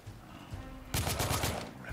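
Gunfire in the video game The Order: 1886, a sudden close burst of rapid automatic shots lasting about a second, starting loud after a quieter stretch of game ambience.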